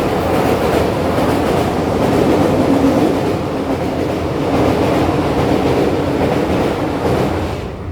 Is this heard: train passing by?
yes